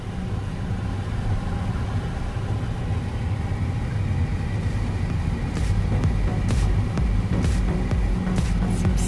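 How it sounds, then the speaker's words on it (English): A car cruising along Rodeo Drive in Beverly Hills, heard from inside as a continuous low engine and road rumble, steady and fairly loud, with a few brief ticks near the end. "Okay, we're driving down Rodeo Drive."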